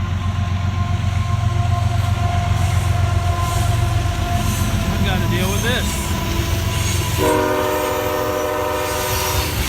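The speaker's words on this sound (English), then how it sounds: "My worry is that the train going by is going to kick up a lot of dust." A passing train sounds its horn near a boatyard where a sailboat is being painted, a steady loud rumble of rail cars with sustained harmonic horn blasts late on; a person speaks briefly over it.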